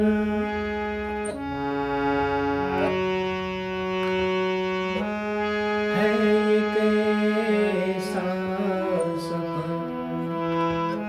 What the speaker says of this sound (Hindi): और हारमोनियम की जो आवाज़ है